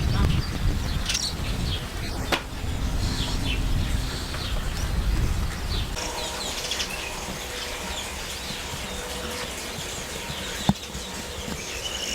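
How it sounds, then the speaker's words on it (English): Sparrows chirp in scattered, faint bursts around a roof outdoors along the Camino Francés near León, mixed with wind and distant ambient noise, the calls light and intermittent rather than close. "Those little sparrows actually live in the roof."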